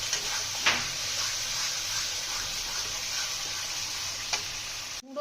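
Spice paste fries in hot oil for a soybean kofta curry, giving a steady close sizzle with a few sharp stirring clicks and scrapes throughout, with no voices.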